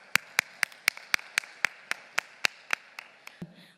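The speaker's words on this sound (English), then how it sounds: "please give a round of applause for all of us." Sharp hand claps ring out one at a time in an even, fairly slow beat, about a dozen in all, loud and close, with no crowd noise around them.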